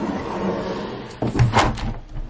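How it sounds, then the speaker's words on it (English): Door of an abandoned farmhouse swung shut against the wind, a creaking scrape followed by a solid knock and rattle partway through, close and fairly loud over a low windy rumble. "so I'm gonna close the door"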